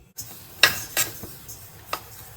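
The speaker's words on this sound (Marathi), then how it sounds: "त्याच्यामध्ये दोन चमचे खसखस मिक्स करते आता हे दोन्ही मी पुन्हा एकदा गरम करून घेते थोडंसं भाजून घेते" A spoon scrapes and clinks against a pan while sesame and poppy seeds are dry-roasted, a few distinct metallic taps spaced over a faint background hiss, close by and with no talking.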